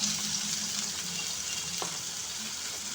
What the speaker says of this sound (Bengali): দিয়ে আলুটাকে আমি ভেজে নেব